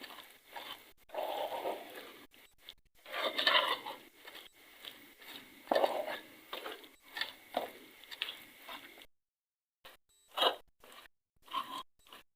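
Peanuts being roasted in melting sugar in a pan for chikki, giving close, dry crunching and scraping stirs in uneven bursts with brief pauses.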